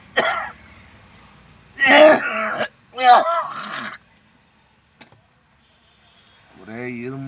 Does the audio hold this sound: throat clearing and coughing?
yes